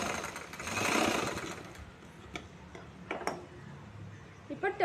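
A sewing machine stitches two layers of churidar fabric in a short run that fades out, followed by small handling clicks and taps, close and moderately loud.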